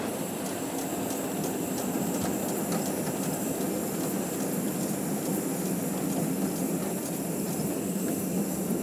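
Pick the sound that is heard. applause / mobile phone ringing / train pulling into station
train pulling into station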